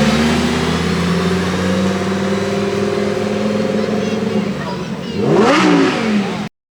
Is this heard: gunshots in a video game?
no